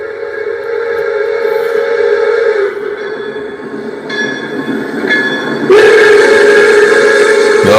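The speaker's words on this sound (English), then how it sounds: "It does sound like there's a train in the distance." A train passing in the distance, sounding steady horn-like tones with a louder, closer-sounding burst near the end, under continuous rumbling background noise and no talk.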